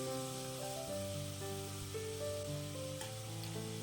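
Tomato, green chili and curry leaves fry in a pan for Kerala-style beetroot curry, a steady sizzle running throughout alongside sustained musical tones, with no talking.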